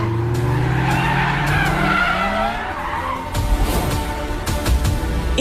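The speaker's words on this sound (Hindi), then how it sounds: "आ गई गाड़ियां" Several large cars arrive with loud tire skids, squealing rubber sweeping across a rumbling engine bed, followed by heavier scrapes and thuds as they pull up close; no talking.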